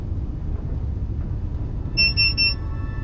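Spaceship alarm in a space video game: three quick high, bright beeps in a row over a low, constant engine rumble, sounding sharp and close without any speech.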